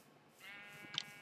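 A single sheep bleat from the Minecraft video game, short and faint, rising briefly out of quiet background.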